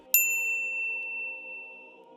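A single bright notification bell ding strikes sharply at the start, then rings out with a clear lingering tone that slowly fades over a faint quiet background.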